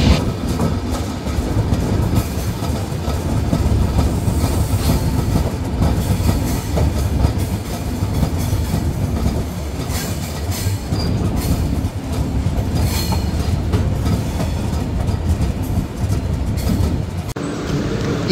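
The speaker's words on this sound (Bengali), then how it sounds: "ট্রেন প্রবেশ করছে তার 8 নম্বর যাত্রাবাড়ি স্টেশন ইব্রাহিমাবাদে" The Silk City Express rolls into Ibrahimabad station on the Rajshahi to Dhaka run, a loud, continuous rumble of wheels and carriages with clattering rail joints and occasional sharp squeals, heard close and without talk.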